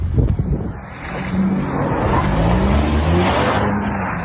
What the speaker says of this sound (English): You gonna hit him with the car?